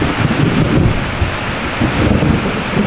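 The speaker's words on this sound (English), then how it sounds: "The first rain, thunder, lightning on the platform." A thunderstorm with rain on an ocean platform: a loud, dense roar of rain and low rumbling thunder fills the whole stretch, with wind buffeting the microphone and no voices.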